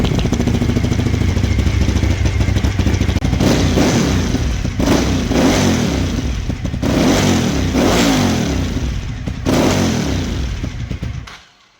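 A Suzuki TL1000R motorcycle engine, neglected and being brought back to life, runs loud and close while warming up, with a rough rumbling idle broken by several blips of revving before it cuts out.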